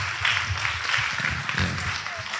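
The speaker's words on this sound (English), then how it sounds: "Please join me giving a round of applause for our panelists here." A conference audience applauds the panelists at the end of an AI-in-healthcare session, producing a brief, even rush of many hands clapping at moderate loudness, with no voices over it.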